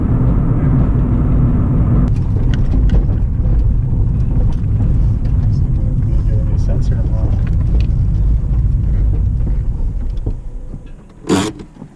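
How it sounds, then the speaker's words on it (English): A turbocharged SOHC D16 Honda Civic engine shutting off while the turbo keeps spinning, loud steady mechanical rumble and whine fading near the end, with people talking over it. "Turbo's still spinning."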